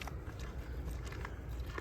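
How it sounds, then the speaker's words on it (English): A calf chews on a rock in a field, giving close, gritty crunching and scraping over a steady low background rumble. "He chewing on a rock. Y'all hear that?"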